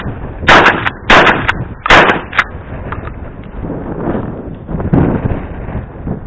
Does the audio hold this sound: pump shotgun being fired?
yes